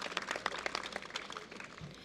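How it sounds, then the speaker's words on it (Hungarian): An audience at a seniors' dance gathering in Ajka applauds, a faint, scattered patter of clapping from a small crowd that thins out toward the end. "úgyhogy egy tapsot az ő nevében"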